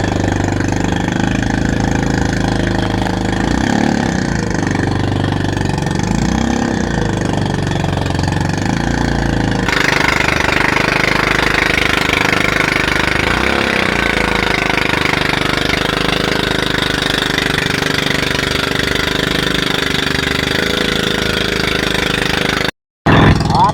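A large boat's poorly running engine drones steadily at close range in big monsoon waves, loud and unbroken, with a slight shift in tone partway through and a brief dropout near the end.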